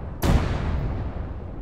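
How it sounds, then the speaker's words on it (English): Big explosion in a military video game, a single sudden loud blast with a sharp onset and a long rumbling tail that slowly fades. "what was that big explosion?"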